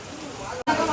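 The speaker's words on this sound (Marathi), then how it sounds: "पाऊस आले" June monsoon rain falls in a steady, close hiss across the whole second, with a brief dropout near the end and faint voices murmuring in the background.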